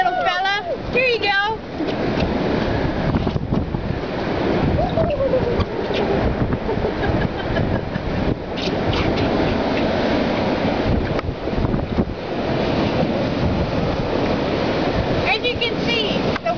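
Heavy surf roars and crashes steadily during Hurricane Sandy at Provincetown, under constant wind buffeting the microphone, with a brief squeal near the start.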